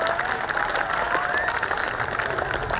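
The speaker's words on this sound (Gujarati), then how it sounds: "પહેલા નંબરવાળા માટે તાળીઓ વધારે પાડો" An audience at a Republic Day cultural program in a primary school gives a first-prize winner a dense, unbroken round of applause, steady and fairly loud throughout.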